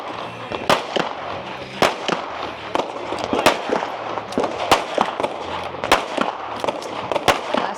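Rifle and pistol shots on a shooting competition stage at an outdoor range with firing lanes, sharp cracks coming in an irregular rapid series, some close and loud, others fainter and distant.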